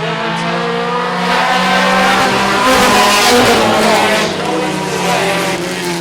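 Four-cylinder race cars at Lancaster Motorplex roar steadily down the back straightaway during a heat race, with loud sustained engine drone and swelling revs, close and continuous.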